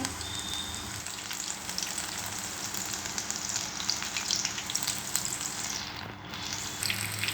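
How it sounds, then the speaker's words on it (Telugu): Brinjal bajji battered eggplant fritters frying in hot oil, a steady dense sizzle and bubbling that continues without pause and fairly close, with no voices over it. "వేడివేడిగా వంకాయ బజ్జీలు రెడీ అవుతున్నాయి"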